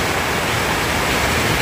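Heavy, steady downpour during a typhoon, a dense continuous roar of rain with no breaks and no voices, loud and close throughout.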